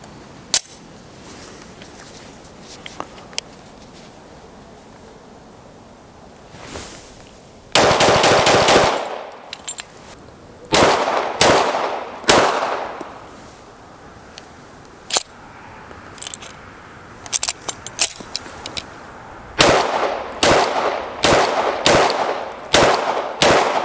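Gunshots from a PSA Dagger pistol fired with cheap ammunition: several loud, sharp reports in irregular bursts, some shots closely spaced, ringing over a quiet outdoor background with no talk.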